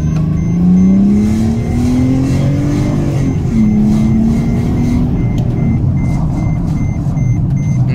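Car revving through a newly fitted tuned exhaust, a loud, close, steady rumble that swells and falls as the throttle rises and eases, with no talking.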